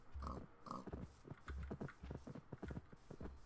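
Pigs in Minecraft grunting in short, repeated oinks with a few quick clattering steps mixed in, fairly quiet and close, with no one talking over them.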